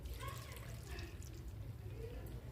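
A glass of water poured into a pan of mustard greens saag with fenugreek, giving a soft, steady liquid wash that runs the whole time under a low background hum.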